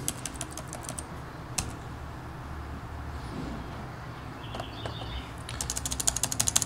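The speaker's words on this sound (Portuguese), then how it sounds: "Vamos digitar corretamente." Typing on the keyboard of a Lenovo G485 notebook, with soft scattered keystrokes early on that become a quicker, louder run of clicks at the end, close up with no speech.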